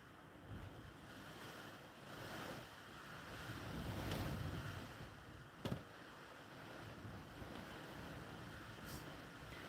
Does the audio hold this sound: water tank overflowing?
yes